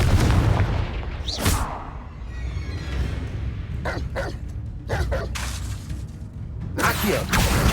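Confringo blasting curse explosions in Hogwarts Legacy, a series of sharp bursts and cracks rising over a low, busy battle rumble, with the loudest blasts near the start and end.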